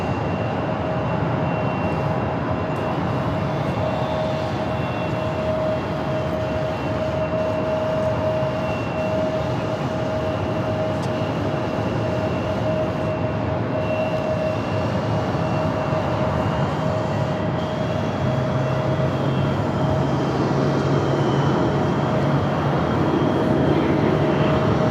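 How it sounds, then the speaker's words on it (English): Steady aircraft engine drone from a United Airbus A321neo airliner taxiing toward the Terminal 3 gates at Phoenix airport, a continuous loud hum with a sustained whine throughout, no talk. "Got the United A321 Neo heading into the Northside gates at Terminal 3."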